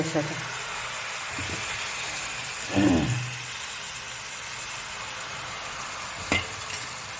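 Dosa batter poured onto a hot oiled pan gives a steady broadband sizzle throughout, with a louder burst near the middle as the batter spreads and a short clatter near the end.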